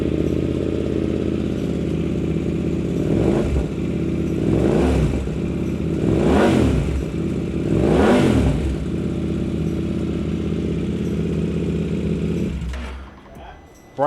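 A KTM RC8C race motorcycle engine idles with a steady loud rumble, then revs hard four times in a rhythmic series of rising-and-falling bursts before cutting off near the end, heard up close.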